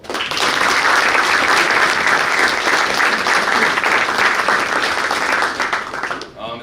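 Steady applause from a large crowd at a high school basketball banquet, loud and sustained for several seconds before tapering off at the end.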